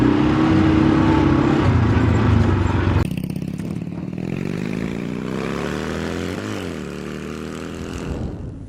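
A quad bike engine revs hard nearby, then pulls away, its drone dropping and fading as the ATV drives off into the distance.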